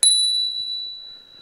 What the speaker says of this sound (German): Ich habe eine neue Klingel.